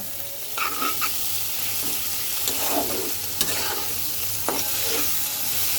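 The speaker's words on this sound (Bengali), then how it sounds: "এটাকে খুব সুন্দর করে কম জালে ভাজা ভাজা করতে হবে" Onions fry on low heat in katla fish oil for a dopiaza, giving a constant soft sizzle with occasional scraping stirs of a spatula, close and even in level, with no talk.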